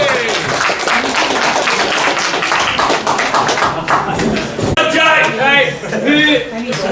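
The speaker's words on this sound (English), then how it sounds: "Big round of applause for Si for bringing this all together," Clapping from a live comedy show audience at the Glasgow International Comedy Festival, sharp and close at first, then thinning out as voices and chatter take over in the final seconds.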